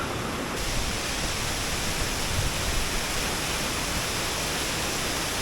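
Big waterfall in the Austrian Alps near Formarinsee, a steady, loud broadband roar of falling water, close and constant throughout with no voices.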